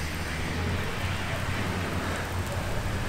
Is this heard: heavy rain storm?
yes